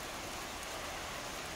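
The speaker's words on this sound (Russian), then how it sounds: "Холодный дождик." Cold rain outdoors in Gobustan during a thunderstorm, a steady even patter and hiss lasting a moment and heard alone, without talk.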